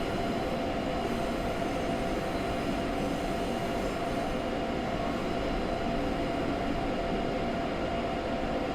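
A train runs along the Semmeringbahn toward Mürzzuschlag in Train Simulator 2016, giving a steady, continuous rolling rumble with a broad hiss of wheels on rail and no change in level.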